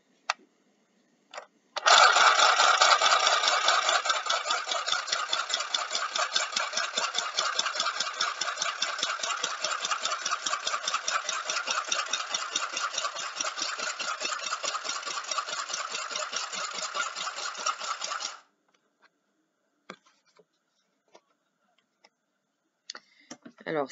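A mini sewing machine stitches through a paper card, a steady rapid ticking stitch rhythm running continuously for about sixteen seconds, close and fairly loud, then stopping, followed by a few faint clicks.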